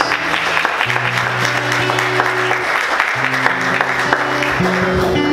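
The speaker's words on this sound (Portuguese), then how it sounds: "Vamos aplaudir Jesus." Loud, continuous applause from a church congregation during worship, a dense steady roar of clapping with sustained keyboard chords and some voices underneath.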